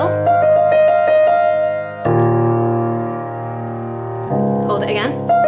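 Piano playing a passage from a song, with sustained pedalled chords ringing out in steady blocks and a brief higher flourish near the end.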